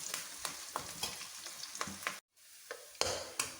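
Ginger, green chillies and curry leaves saute in sesame oil for a homemade rambutan pickle, a close crackling sizzle broken by rhythmic scrapes of a stirring spoon and one brief pause.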